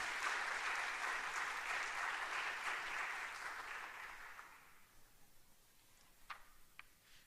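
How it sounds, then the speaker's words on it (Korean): A church congregation claps in welcome, a dense and fairly loud wash of applause that gradually fades out, leaving a few scattered isolated claps and small room sounds near the end. "박수로 한번 그냥 환영하도록 하겠습니다."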